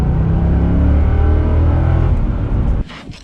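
A car engine warming up, idling with a steady loud rumble that cuts off near the end, followed by faint background sounds.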